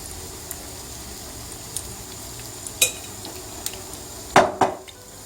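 Zucchini fritters (mücver) fry in a pan with a steady soft sizzle throughout, punctuated by a few sharp clinks of utensils against the pan near the end.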